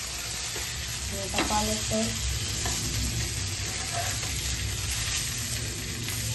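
Marinated pomfret fish frying in a pan, a steady close sizzle with faint scattered clinks and a word spoken under it.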